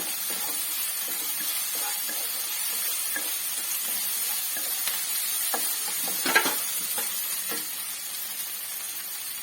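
Three slit green chilies sizzling in hot oil in a pan while cooking soybean, a steady close frying hiss throughout with faint stirring clicks and a brief louder crackle.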